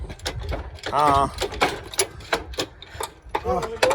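A ratchet wrench clicks and whirs in quick bursts as it tightens a bolt on a vehicle repair, close and fairly loud, with scattered mechanical clanks and voices nearby.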